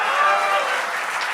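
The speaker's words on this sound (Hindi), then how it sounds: "आपने ताली बजा दी" An audience at a Hindi poetry or comedy recitation breaks into a short burst of loud, dense clapping that fills the whole moment.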